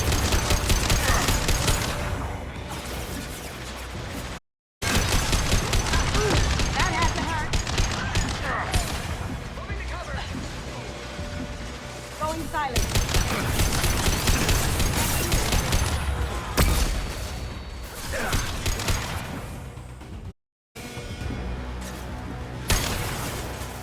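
A Mass Effect 2 firefight produces dense, continuous gunfire with rapid bursts and impacts, loud throughout apart from two brief cuts to silence, and voices shout over the shooting.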